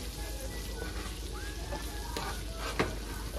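Butter and garlic sizzle steadily in a hot pan, a continuous close crackle and hiss with no talking over it.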